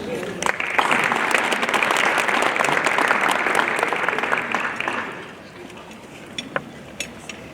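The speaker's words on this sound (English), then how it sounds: "Another round of applause." Dense audience applause at a university research center launch event, loud and sustained for about five seconds before fading to scattered claps, with murmuring voices underneath.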